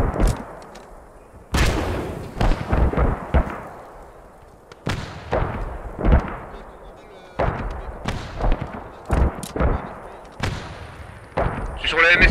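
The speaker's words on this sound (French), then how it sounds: "Grenade." Grenade blasts and sharp gunfire crack repeatedly through a World War II battle in Post Scriptum, heavy booms with long decaying tails, some close and loud, others farther off, with no voices over them.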